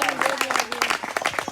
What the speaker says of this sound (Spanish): Denle fuertes aplausos al Señor.